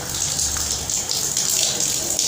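Water runs steadily from a shower tap on a building-site shower, the tap only partly open, giving a continuous close hiss and splash with no pause.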